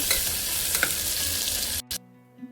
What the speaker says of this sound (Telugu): ఇప్పుడు సన్నగా కట్ చేసి పెట్టుకున్న ఉల్లిపాయ ముక్కలు అయితే వేసేసుకున్నాను ఇవి చక్కగా వేగాలి